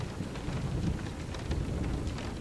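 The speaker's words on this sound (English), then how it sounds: "the background sounds of a thunderstorm and rain at your window" Rain falls steadily against a window while thunder rumbles low and continuous underneath, a dense even wash with no voices.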